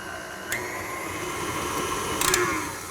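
An electric mixer creams softened butter, white sugar and vanilla extract, a steady mechanical whir running throughout with a couple of brief clatters of the beaters against the bowl.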